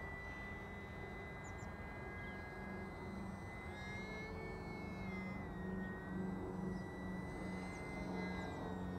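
A small E-flite UMX Timber X RC bush plane flies loops, its electric motor a steady high whine that rises and falls in pitch as it climbs and dives, heard outdoors against constant background noise.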